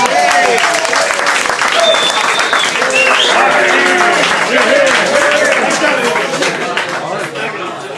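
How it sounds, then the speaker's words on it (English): Loud, sustained applause from a crowd at a Democratic caucus watch party at the Royale in Iowa, dense clapping with cheering and voices mixed in, tapering slightly at the end. "A round of applause to the Royale for hosting the"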